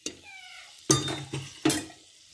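Whole spices (bay leaf, cinnamon, cardamom, cloves, peppercorns) sautéing in a pan for chicken pulao, with a few sharp stirring scrapes and soft sizzling, close and quiet, alone.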